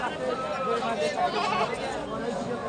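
Large male goats bleat repeatedly amid a busy livestock market at Tebaria haat in Natore, the calls overlapping with constant crowd chatter and nearby voices.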